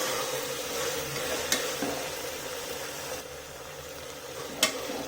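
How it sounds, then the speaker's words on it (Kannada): Kasuri methi stirred into egg biryani masala in a pan: a continuous close sizzle and frying hiss with soft stirring, broken by two sharp clinks of the spoon against the pan's rim. "ನೀಟಾಗಿ ಕೈಯಾಡಿಸ್ಕೊಳ್ಳಿ"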